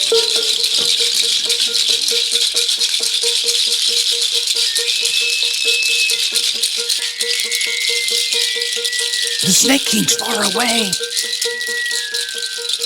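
Continuous rapid rattling, like small hard objects shaken in a container, with a voice speaking over it partway through.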